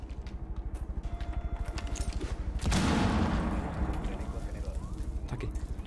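Rapid automatic gunfire in Rainbow Six Siege rattles steadily throughout with a loud blast midway, dense and continuous, as voices talk over the shooting.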